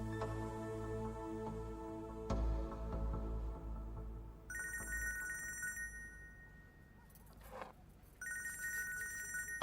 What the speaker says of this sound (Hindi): फेरिदे का फोन है, अली की माँ का।